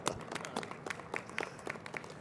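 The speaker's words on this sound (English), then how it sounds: "Now give yourself a round of applause." An audience at a youth recognition event in the Colorado State Capitol applauds itself, with scattered, moderately faint claps and bursts spread unevenly through a short stretch.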